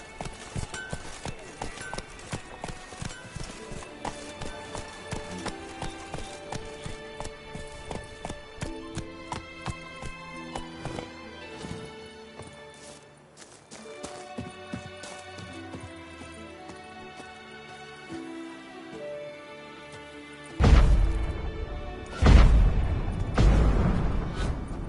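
Roach, Geralt's horse in The Witcher video game, gallops in a rapid, rhythmic clip-clop of hooves over a musical score, ending with louder, heavier hoof impacts.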